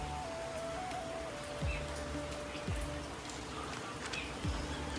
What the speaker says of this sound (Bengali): এখন বৃষ্টিটা কমছে আস্তে আস্তে করে।